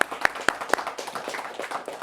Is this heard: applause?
yes